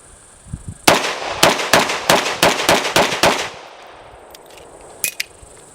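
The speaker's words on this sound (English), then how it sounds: "First thing I'm going to do is just burn through a couple magazines, make sure the gun works flawlessly with no jams, no malfunctions" A Norinco Tokarev TT33 pistol fires 7.62x25mm rounds outdoors at a range, with about ten sharp, loud shots in quick succession followed by a pause and then faint metallic clicks.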